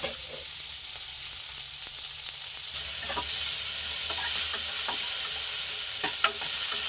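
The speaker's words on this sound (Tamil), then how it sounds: "வெங்காயத்தை நல்லா வதக்கிக்கோங்க" Chopped large onions, added after curry leaves, fry and sizzle in hot oil in a pan, a steady close hiss with occasional stirring clicks and scrapes that grows slightly louder partway through.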